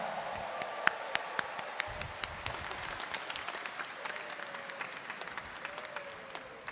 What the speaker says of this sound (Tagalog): gustong unang paghimalaan ng Poong Nazareno, itaas nga ang kamay at pumalakpak ng mas malakas.